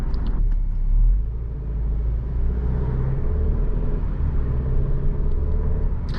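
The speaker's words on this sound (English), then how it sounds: "Yeah, very snappy shifts from this 8-speed" An Alfa Romeo Giulia with an 8-speed gearbox drives with a steady, close engine rumble inside the cabin and brief dips where quick gear shifts land, with no talking.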